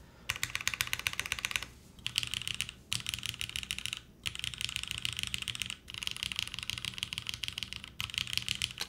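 Mechanical keyboard with lubed and filmed Nixie switches on a top-mount Gehirn build, rapid close clacky typing in bursts separated by brief pauses.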